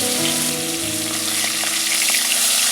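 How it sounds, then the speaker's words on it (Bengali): Hilsa fish heads frying in mustard oil in a wok give off a steady, loud, close sizzle with a dense crackle that runs without a break. "আগে মাথাগুলো ভেজে নিব।"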